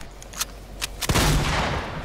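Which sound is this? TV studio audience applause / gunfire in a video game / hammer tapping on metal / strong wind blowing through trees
gunfire in a video game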